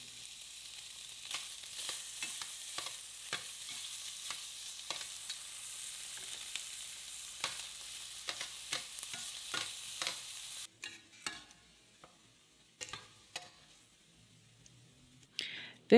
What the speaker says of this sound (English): we're going to throw this bacon in the pot. We're going to get it nice brown and crisp